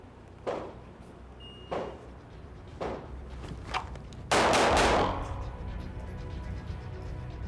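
Gunshots from a shooting training drill: four sharp single shots spaced about a second apart, then a louder, longer burst with echoing tail, heard alone without talk.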